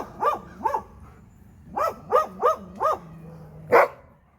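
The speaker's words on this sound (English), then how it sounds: "the dogs were barking" Several dogs bark in short bursts outdoors on a ranch, two quick barks, then a run of four evenly spaced barks, and a final louder, sharper yelp, all fairly close with no talking.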